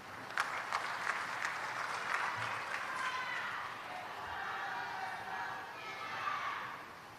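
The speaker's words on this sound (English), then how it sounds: "let's once again give Mr. James Reid a big round of applause as we appreciate the support for making this" Audience applauding at an international conference on the PEN-Plus regional strategy, steady clapping filling the room for several seconds with a faint voice or crowd murmur underneath.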